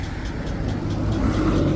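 A van's engine idling with a lifter tick, a steady close rumble with faint regular ticking riding over it, no talk.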